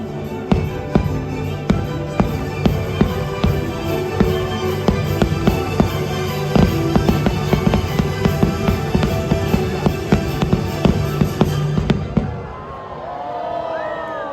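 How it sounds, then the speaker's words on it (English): Fireworks explode over Disneyland during the holiday season, a rapid barrage of loud booms and crackles for about twelve seconds before stopping abruptly, leaving a quieter crowd murmur behind. "then fireworks"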